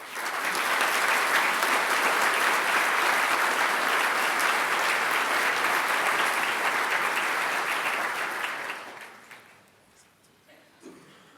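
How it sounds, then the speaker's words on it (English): Sustained, loud audience applause for standing sport and exercise science graduates at a GMIT graduation ceremony, a steady dense clapping crowd lasting about nine seconds before tapering off into quiet hall ambience. "please stand to receive their applause."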